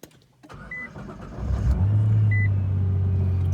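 A Nissan R35 GT-R fires up by push button: a starter whir gives way to the engine catching and settling into a steady, loud idle rumble, close by with no talking.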